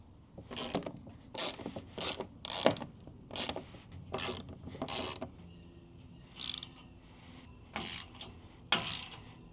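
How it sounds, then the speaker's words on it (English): Ratchet wrench tightening bolts on the back of a Midnight Forest 8-gallon water tank and its rack, close rapid clicking bursts repeating in about a dozen short rounds with brief pauses between. "I'm just gonna tighten down those bolts on both the back of the tank and on the rack side"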